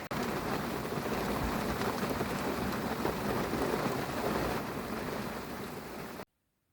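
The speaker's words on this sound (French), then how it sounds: "la fenêtre ouverte, la pluie dehors, le bruit de la pluie sur le plafond" Steady, loud rain drums on the roof of a camper van parked in Belgium with a window open, a dense continuous patter with no voices, ending in sudden silence.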